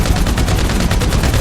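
Rapid gunfire in the video game GTA 5: a dense, continuous rattle of automatic shots at a steady fast rhythm, loud and close throughout with no pauses.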